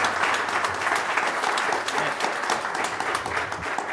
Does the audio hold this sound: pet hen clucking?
no